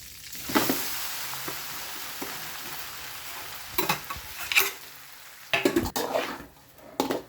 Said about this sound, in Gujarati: આપણા ઢોકળા વઘારાઈ જાય